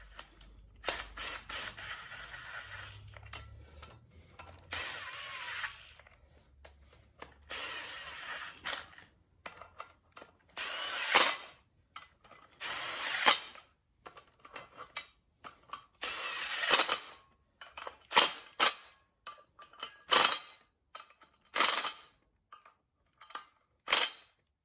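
Flex plate bolts on a 1976 Chevrolet C3 Corvette LS swap are snugged up with a ratchet, giving close, sharp metallic clicks and short ratcheting bursts in an uneven rhythm, with quiet gaps in between.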